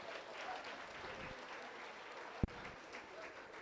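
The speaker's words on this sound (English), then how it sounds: "give them a round of applause" An audience at a mental health summit applauds with steady, soft clapping, and one sharp knock cuts in partway through.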